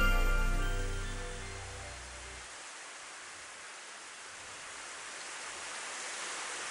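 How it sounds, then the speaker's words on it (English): Rain falls steadily in the visual novel Planetarian, a dense, even hiss with no voices, and a low rumble at the start fades out after a couple of seconds. "I simply walked into the midst of the rain."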